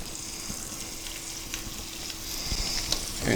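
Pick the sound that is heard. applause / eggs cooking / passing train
eggs cooking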